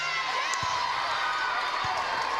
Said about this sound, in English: that Sorrell cheering section going crazy over there in the corner in DeVos